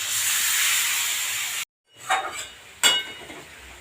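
Water poured into a hot pan of spiced papaya curry gives a loud, steady steam-like hiss, then a brief cut to silence followed by two sharp bursts of sizzling spatter.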